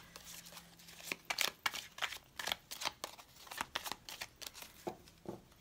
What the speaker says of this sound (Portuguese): comecei a embaralhar